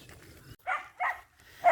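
A couple of short dog barks or yips in quick succession, fairly faint and a little distant, over quiet outdoor background.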